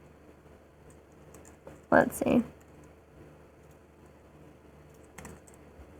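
Brief burst of keyboard typing at a computer during a Slay the Spire game session, a quick cluster of clicks near the middle, with someone briefly speaking over it and a faint tap later.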